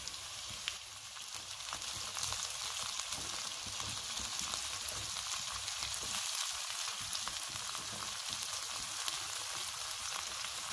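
Cherry tomatoes sizzling over high heat in a frying pan with onion, a steady, dense crackling hiss with no break, close and fairly quiet.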